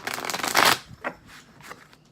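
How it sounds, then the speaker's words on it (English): Close, crisp tarot card shuffling: a dense riffle burst lasting under a second, then a couple of softer, shorter shuffles and taps. "let me go ahead and shuffle the clarifying deck a couple of times"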